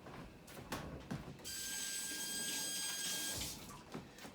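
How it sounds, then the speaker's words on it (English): A hand is rinsed under a running kitchen tap, a steady close hiss of flowing water lasting about two seconds between brief clatters and handling noises. "let me rinse my hand"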